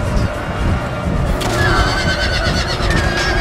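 A horse neighs loudly during a Total War: Empire battle between Pueblo and Russian armies, a shrill whinny over dense, rumbling combat noise.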